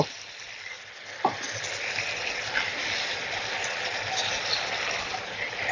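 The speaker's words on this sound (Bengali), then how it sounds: "সামান্য একটুখানি জল দিয়ে দিচ্ছি অল্প" A small splash of water hits bottle gourd greens cooking in a hot pan, a brief pour followed by a steady hissing sizzle that carries on to the end.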